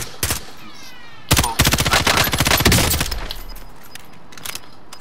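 Gunfire in the video game Call of Duty Modern Warfare, with a few single shots followed by a loud rapid automatic burst that trails off into scattered distant shots.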